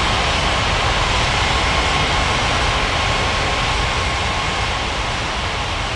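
A jet airliner in the air traffic control game Unmatched Air Traffic Control roars down the runway on takeoff, a loud, broad, sustained engine rumble with a faint tonal whine running steadily throughout.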